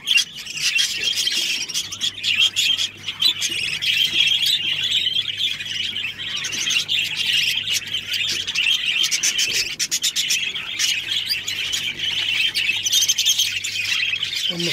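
Budgerigar chicks, spangle and lutino, chirp and squawk in the nest with a steady dense stream of high calls, close and fairly loud, with no talk.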